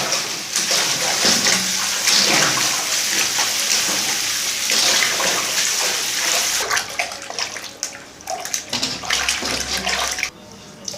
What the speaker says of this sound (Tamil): இந்த மாதிரி கால் நல்லா அலசம் பண்ணுங்க.